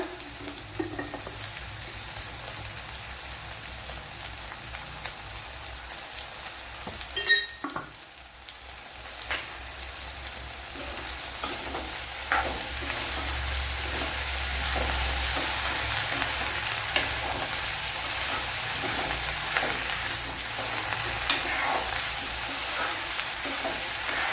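Okra frying with softened onions in a pan with salt, giving a steady, close, busy sizzle throughout with an occasional clink and scrape of stirring, and no talking.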